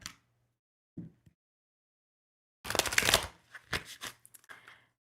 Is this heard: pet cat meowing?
no